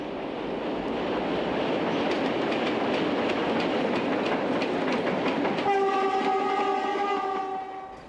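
A Portuguese 1400 class diesel train rolls along the Douro line, wheels clattering in steady rhythmic clicks over rail joints, then a sustained horn sounds near the end over the rumble.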